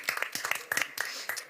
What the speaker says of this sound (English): Big applause for everybody that has participated.